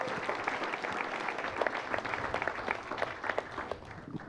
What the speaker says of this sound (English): How about a round of applause for all of our officers?